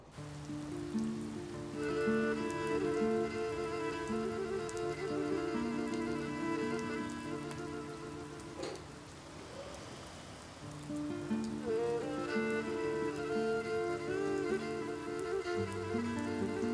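Rain falls outside as a soft continuous patter, faint under sustained musical tones that pause briefly partway through.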